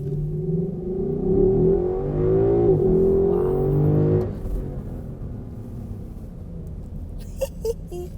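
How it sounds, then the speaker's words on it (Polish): A Lexus LC 500 convertible accelerates hard at full throttle, its engine roaring and climbing through revs with a gear change, then settling to a lower cruising drone heard from inside the car, with no voices. "To teraz mały test przyspieszenia"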